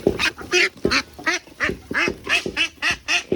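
Ducks on a duck farm in Assam quack over and over in a close, loud, steady series of sharp nasal calls, roughly three to four per second, with no talking.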